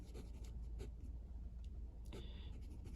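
A Pilot E95s fountain pen with a fine 14-carat nib scratching across paper, faint soft strokes and small ticks in quick irregular bursts over a low steady hum.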